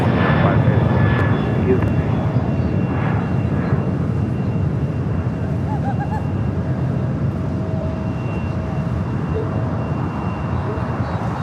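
Jet airplane taxiing onto taxiway Kilo at LAX, a steady, loud engine roar and whine holding throughout, with voices talking over it.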